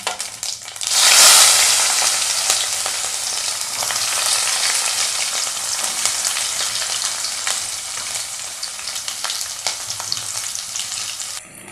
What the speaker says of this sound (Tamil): பூண்டு நல்லா வதங்கிடுச்சு.